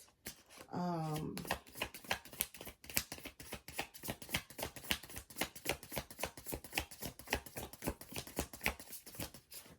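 Tarot cards shuffled over and over in quick, soft riffling bursts, a steady rhythmic patter close by, with a short tonal sound near the start.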